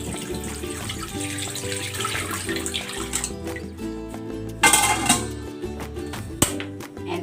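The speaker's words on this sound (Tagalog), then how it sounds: "Lagyan na natin ito ng tubig." Water pours steadily into a pot of pork breast for sinigang, a continuous loud gushing splash with a few clunks, close by and with no talk.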